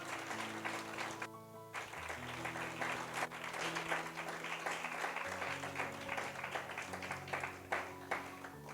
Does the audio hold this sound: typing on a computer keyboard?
no